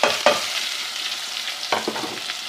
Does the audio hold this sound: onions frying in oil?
yes